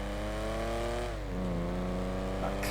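In GTA V, the Dewbauchee JB700's classic British engine drones steadily up close, then its pitch drops as it shifts or eases off and settles into a lower sustained hum.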